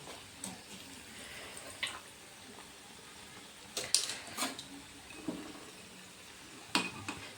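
Cauliflower chops fry in hot oil with a soft, steady sizzle, while sharper clinks and scrapes of a utensil against the pan pop out now and then at close range in a quiet kitchen.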